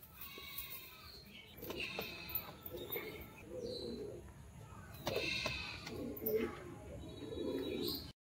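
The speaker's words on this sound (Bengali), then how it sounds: "এবার এটা হচ্ছে মাদি পায়রা, ঠিক আছে, শ্বেত মাদি।" Crested pigeons, including a white crested hen, cooing in soft, repeated throaty coos close by. Faint background noise sits under the calls.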